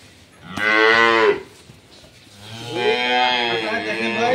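A large dairy cow of an improved breed on a farm gives two long, loud moos close by, the first short and strained, the second drawn out and wavering, with no speech.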